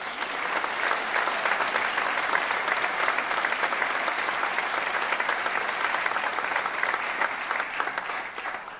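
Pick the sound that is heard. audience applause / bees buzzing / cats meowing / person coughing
audience applause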